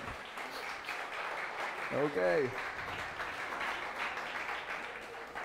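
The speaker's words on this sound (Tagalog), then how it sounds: "yung palakpak na nakakabigay ng glory kay Lord." Congregation clapping during a church service, a soft, steady spread of applause in a large room, with a brief spoken word in the middle and faint voices around it.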